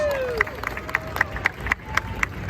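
Audience applause at the IAAPA Expo 2022 reveal of SeaWorld San Diego's Arctic Rescue ride: a fairly faint wash of clapping punctuated by evenly spaced, sharp accents that repeat in a steady rhythm.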